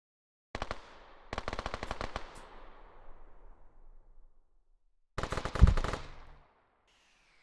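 Automatic gunfire rattles in a capture-the-flag video game match, with two long close bursts early on, a fading tail between them, and a louder burst with an impact later.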